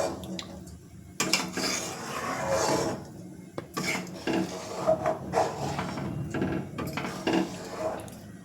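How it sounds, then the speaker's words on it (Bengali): A spoon scrapes and rubs through rice and milk payesh simmering in a pot, producing intermittent rasping strokes with soft clinks, close and moderately loud, with no talk over it. "মাঝে মাঝে নাড়া দিচ্ছি যাতে চালটা তলায় লেগে না যায়।"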